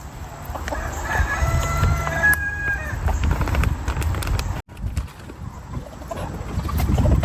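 Rhode Island Red chickens cluck and crow close by while pecking at treats, with a clear crow near the start over steady clucking and rustling.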